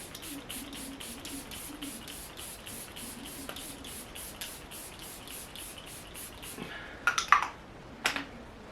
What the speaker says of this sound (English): I'm taking the Believe Beauty Makeup Perfecting Setting Spray to set everything.